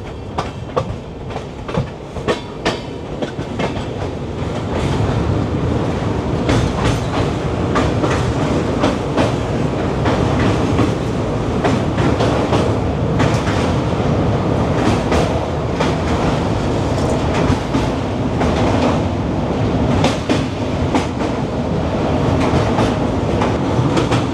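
The 22504 Vivek Express runs on the rails with a loud, steady rumble, a rhythmic clickety-clack of wheels over rail joints and a dense roar heard from on board, and no one speaks.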